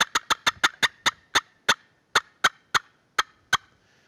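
A wooden turkey box call imitates a hen's fly-down cackle: about fourteen sharp, loud yelps and cuts, tightly packed and fast at first, then spacing out and slowing toward the end, close up with no talking.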